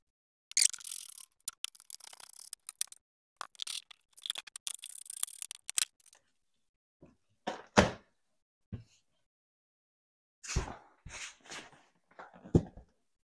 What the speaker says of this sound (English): I'm going to remove this seat here. There's a 8 millimeter, there's four little 8 millimeter bolts underneath,